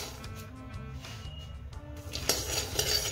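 Raw peanuts roast dry in a pan and get stirred, producing soft continuous scraping and light rattling, with a few sharper metallic clinks toward the end. The sound is quiet and close.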